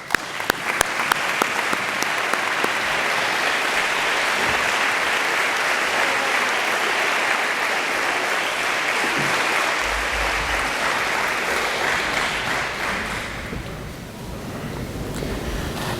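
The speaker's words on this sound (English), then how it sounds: "join me in giving all of our supports a massive round of applause" A standing crowd at a school sports recognition ceremony applauds its supporters in a loud, dense, sustained wash of clapping that holds steady for many seconds, thinning slightly near the end.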